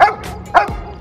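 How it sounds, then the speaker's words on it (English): A police K9 dog barks on command during a patrol announcement, giving a couple of sharp, loud, close barks with a brief yelp between them. "I'll actually have him bark to let people know I really have a dog out here"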